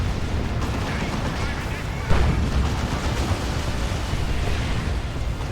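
Dense, rumbling battle noise from a Warhammer 40,000: Dawn of War 2 match between Ordo Malleus and Orks, with blaster shots and heavy hits blurring into a continuous roar, one sharper impact standing out midway.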